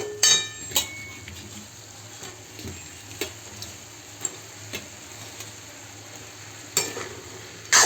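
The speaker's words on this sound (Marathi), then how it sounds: "आणि बटाटा घालूया आणि छान मिक्स करून घेऊ।" Potatoes and flat beans stirred in a pan, with intermittent spoon knocks and scrapes against the metal over a faint steady sizzle, close up and with no one talking.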